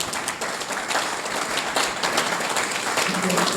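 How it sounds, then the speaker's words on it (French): Audience applause at the closing ceremony of an education sciences colloquium at Cheikh Anta Diop University in Dakar, a steady dense wash of clapping filling the hall throughout, with a faint voice underneath near the end. "On applaudit le personnel administratif."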